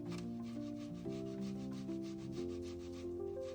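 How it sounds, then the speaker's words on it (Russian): A potato is rubbed over a fine grater for a layered salad. Quick, steady rasping strokes repeat close by under soft background music, with no talking. "натираю картофель на мелкой терке"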